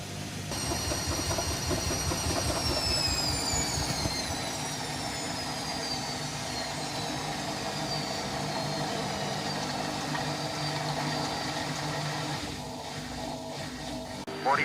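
A Whirlpool washing machine on a quick 30-degree wash, running its rinse and spin cycle, with a steady droning whir whose pitch slowly sweeps downward before the motor winds down near the end.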